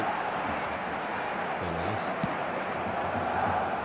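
A dense, continuous stadium crowd roar fills an eFootball match after a goal, staying loud and even throughout, with a commentator's voice faintly under it.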